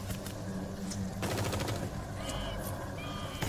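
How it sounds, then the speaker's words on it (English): Rapid gunfire rattles through a dark Blair Witch horror game scene in a dense, continuous burst, loud and close, under a steady backdrop of game noise. "I'm getting shot at"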